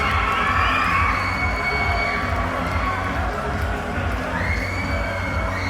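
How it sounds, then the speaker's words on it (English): A boxing crowd erupts as the winner is announced, loud cheering, whoops and yelling from many voices near and far, sustained for several seconds in a packed hall. "And the crowd erupts for that as Rory Haigh wins it."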